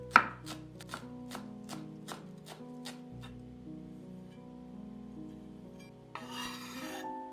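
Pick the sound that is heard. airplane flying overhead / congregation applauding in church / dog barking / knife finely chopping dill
knife finely chopping dill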